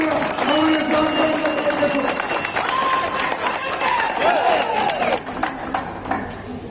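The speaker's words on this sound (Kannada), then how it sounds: "ನಾವೆಲ್ಲ ಕೆಜಿಎಫ್ ಜನತೆ ಜೋರಾಗಿ ಚಪ್ಪಾಳೆ ಹೊಡೆಯಬೇಕು" A large crowd at a BJP public meeting in KGF claps loudly and steadily to welcome Tamil Nadu BJP president Annamalai, a dense continuous wash of applause with a voice over it that fades slightly at the end.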